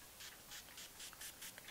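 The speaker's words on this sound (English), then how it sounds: "I'm going to set all of my makeup down using this Project Beauty Spray Set Go Makeup Setting Spray" Project Beauty Spray Set Go makeup setting spray misted over a finished face in about seven quick, soft spritzes at a steady rhythm, close and faint, with no talking.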